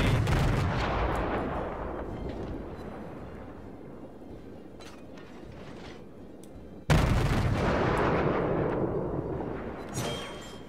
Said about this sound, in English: I'm doing a lot of damage to him, but then again I am shooting AP.